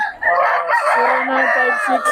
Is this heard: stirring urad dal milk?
no